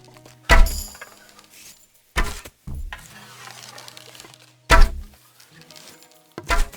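Arrows loosed from a bow striking a target in Kingdom Come Deliverance 2, with several sharp thunking impacts spaced a couple of seconds apart over quiet background.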